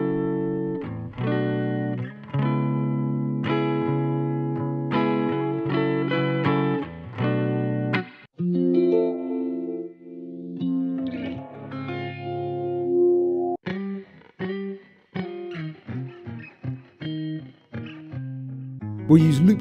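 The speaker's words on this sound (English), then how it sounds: "Let's hear some of the Sunset Electric Guitar loops." Sunset Electric Guitar sample pack loops: effected electric guitar phrases with distortion, chorus and echo play in short loud segments, with brief pauses and cutoffs between the loops.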